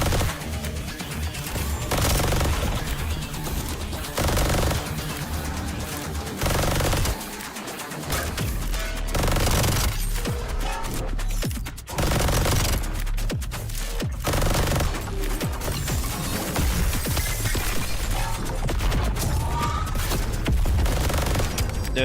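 Sustained automatic gunfire from The First Descendant shooter game, dense rapid bursts and crashes over loud game music and effects across the whole stretch, with brief pauses between volleys.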